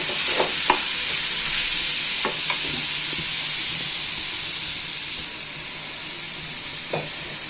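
Goat blood poriyal frying in a pan with chilli powder, stirred steadily, giving a continuous close sizzle with a few scraping clicks of the spoon, no voices.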